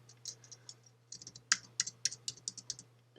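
Typing on a computer keyboard while editing text in Microsoft Word: a quick, uneven run of light key clicks, close and fairly quiet, with a low steady hum underneath and no talk.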